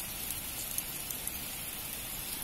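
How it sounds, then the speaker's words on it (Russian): Steady, prolonged rain falls on a road with runoff streaming down, heard as an even, constant hiss with faint scattered drip ticks and no voices. "этот облажной дождь у нас теперь зарядил надолго"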